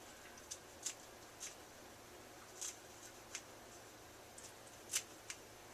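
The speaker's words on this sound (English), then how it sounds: "you just go back with the scissors and just trim them up" Scissors snip stray yarn ends while trimming yarn braids, giving a few soft, sparse clicks spaced irregularly against a quiet background.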